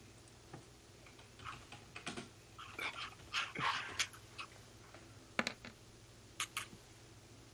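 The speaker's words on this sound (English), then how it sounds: "That's the sound of the dice rolling on the game." Dice rattle and clatter across a board game in scattered bursts of light clicks, fairly close, with a faint steady hum behind.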